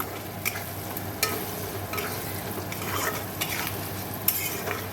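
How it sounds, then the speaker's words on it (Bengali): Fish fat frying in a pan, a steady sizzle with intermittent scraping stirs and light clinks of a utensil against the pan. "আমি এখানে মাছের তেলটা ভেজে দিচ্ছি"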